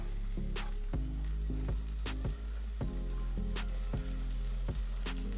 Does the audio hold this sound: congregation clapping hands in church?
no